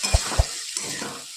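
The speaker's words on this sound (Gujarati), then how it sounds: "ભાજી આપણી ધોઈને આવી ગઈ છે અંદર નાખી દઈશું" Washed fenugreek leaves go into a hot cooking pan, with two soft thumps as they drop in, followed by a steady, moderate sizzle and light stirring.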